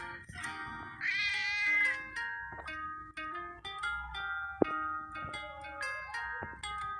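A cat meows repeatedly in a cat care simulator video game, several high, drawn-out meows over cheerful game music with occasional clicks and thumps.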